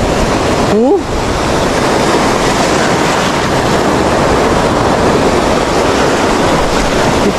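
Heavy, continuous roar of large ocean waves surging and crashing against a shore, loud and broadband throughout, with a brief voice near the start.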